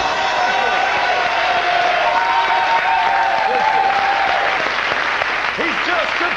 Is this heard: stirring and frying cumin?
no